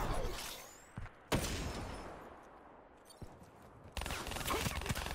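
Sniper gunfire rings out in a video game: a few sharp shots land about a second apart, then another later, followed by a denser burst of crackling fire near the end, all fairly distant and subdued.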